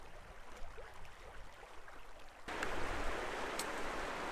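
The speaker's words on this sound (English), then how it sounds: "hearing the sounds of the moving water" River water moves along the Wind River Range, a soft, continuous rushing that jumps abruptly louder and brighter midway, as if heard from closer, with no voices.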